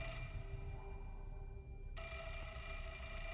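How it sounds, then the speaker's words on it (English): A telephone rings in the Fatal Frame horror game, a steady electronic bell tone that briefly drops out and then resumes loud and continuous over a low background hum. "The phone's ringing."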